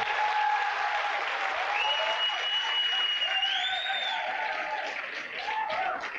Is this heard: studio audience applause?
yes